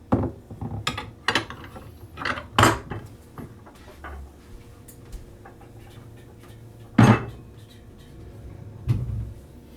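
Ingredients for a peanut butter granola bake go into a larger mixing bowl in a home kitchen, giving close, irregular clinks, knocks and scraping clatter of bowls and utensils, some hits louder than others, with no talking.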